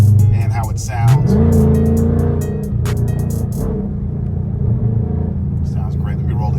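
A Dodge Charger's engine rumbles steadily from inside the cabin while driving, a low continuous drone with a rising pitch sweep as it accelerates, heard under someone talking.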